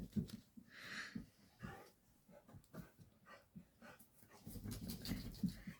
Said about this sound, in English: our dog cockapoo